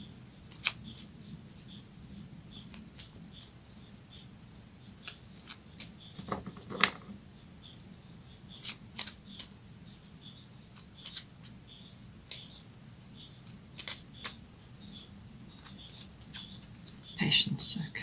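Oracle cards shuffled by hand during a reading, heard as quiet, scattered crisp flicks and taps through a low room hum, with a brief louder burst of riffling near the end.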